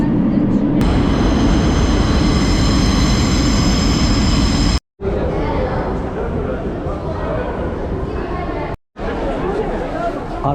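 Loud continuous rumble and roar of a metro train in motion in Algiers, Algeria, close and steady, with brief sharp dropouts and people talking over it.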